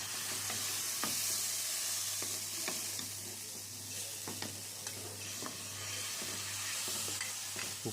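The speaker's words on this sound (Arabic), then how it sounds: "وبعدين هنطشها على الملوخية، ودي أحلى طشة ملوخية مصري في الدنيا." Hot tasha tempering sizzles steadily as it is poured onto Egyptian molokhia, a continuous close, loud frying hiss with small crackles and stirring clicks, no voices.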